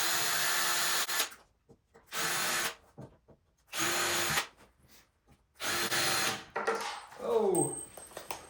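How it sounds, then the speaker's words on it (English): Ryobi power drill boring pilot holes in wood: four loud whirring bursts of about a second each, separated by brief quiet gaps, then a shorter run that winds down at the end. "Then we'll throw in a few pilot holes."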